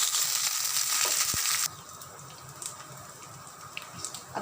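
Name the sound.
frying curry leaves on high flame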